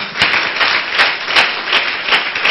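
A church congregation claps together loudly, a dense continuous roar of many hands with rhythmic surges roughly every half second.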